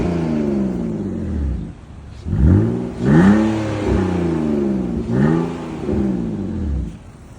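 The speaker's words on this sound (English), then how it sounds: "So let me see if I can give a little rev." A 1999 BMW 528i Touring with a manual transmission revs up from idle in several short blips, its engine note rising and falling close to the microphone with no talking.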